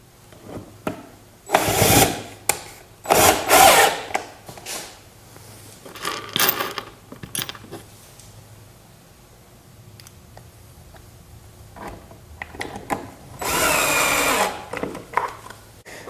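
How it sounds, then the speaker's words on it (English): A drill drives pocket hole screws into a wooden side table in short whirring bursts, separated by pauses with scattered knocks and handling sounds of the wood. "Now I just got to go around and put the pocket hole screws in."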